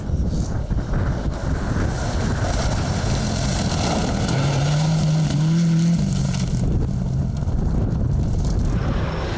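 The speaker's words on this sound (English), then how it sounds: "Paul Britton and Peter Ward were 6th in their Subaru N12." A Subaru N12 rally car on a forest stage passes with a loud, steady engine roar, buffeted throughout by heavy wind noise.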